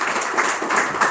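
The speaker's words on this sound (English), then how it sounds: "Clap for them." A seminar audience breaks into short, fairly loud applause after a student presentation, a dense burst of clapping lasting about a second.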